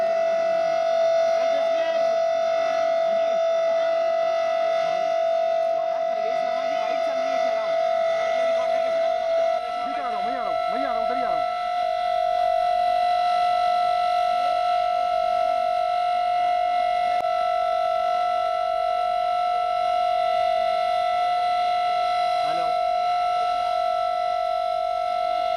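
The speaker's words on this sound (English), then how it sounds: "So those are the sirens going off" A steady, sustained civil defense siren tone wails without pause in New Delhi, distant-sounding and even in pitch, over a faint background murmur.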